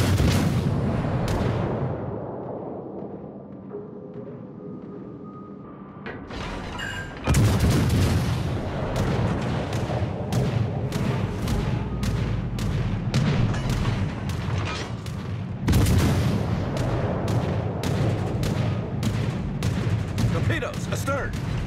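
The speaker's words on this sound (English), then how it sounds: "All stations, concentrate fire on the target." Warship gunfire in World of Warships: Legends, aboard the cruiser De Grasse, a dense run of heavy booming salvos and rapid cannon shots, loud and close, with a brief lull before the barrage resumes; voices can be heard over the battle.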